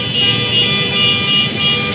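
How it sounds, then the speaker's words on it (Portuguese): Many car horns honk continuously at the closed Esplanada dos Ministérios, forming a loud, dense, unbroken blare layered over traffic noise. "Esse buzinaço que a gente ouve agora é porque a esplanada dos ministérios está fechada para a passagem da comitiva presidencial"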